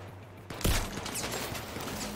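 A single sharp gunshot from a pistol in the VR shooter Zero Caliber VR, loud and close, followed by a rattling tail of further shots and echoes.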